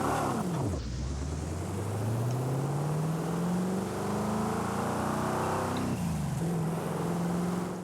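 A Ford F-150 XLT Lariat truck engine in the video game Forza Horizon 5 drops briefly, then climbs steadily in a long rising rev before a shift dips the pitch near the end, loud and close with no talk.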